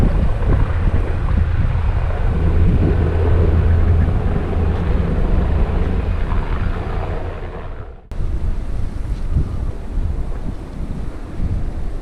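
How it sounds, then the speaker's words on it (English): A Westpac rescue helicopter passes overhead near a lakeside trail, a loud, continuous low rumble tangled with wind buffeting on the microphone and a brief dip near the end. "That's the Westpac rescue helicopter."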